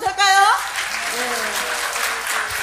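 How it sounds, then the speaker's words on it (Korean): A church congregation breaks into sustained applause at an evangelism festival service, a dense wash of clapping with a voice calling out briefly at the start and faint voices underneath. "이런 때는 박수 한번 쳐도 될까요?"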